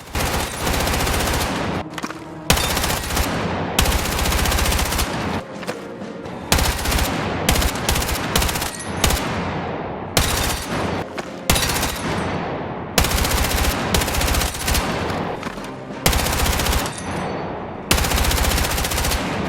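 Automatic weapon fire from the Battlefield 6 video game, loud sustained bursts of rapid shots separated by brief pauses, repeating across the whole stretch with no talk.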